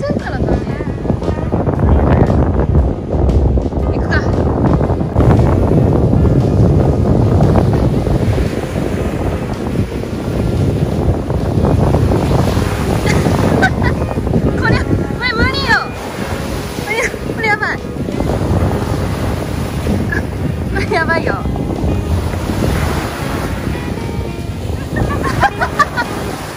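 Strong wind buffets the microphone while high waves surge and break at sea near a remote island, a loud, rough, continuous roar of wind and water, with voices now and then.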